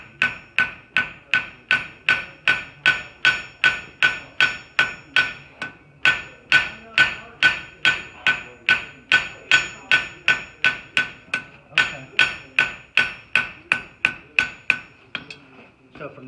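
A cross peen hammer forges and fans out a metal leaf, steady ringing blows struck in an even rhythm of roughly two per second, loud and close, with a short pause midway before the strikes resume.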